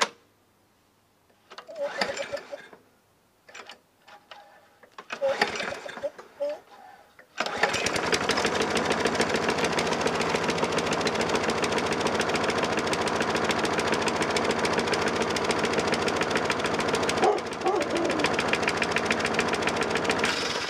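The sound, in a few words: old garbage-picked lawn mower engine running rough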